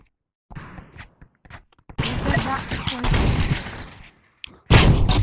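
Shotgun fire in the video game Animal Rivals: sharp, broadband blasts, one longer burst of firing followed after a short gap by another loud shot, with game action and faint voices around them.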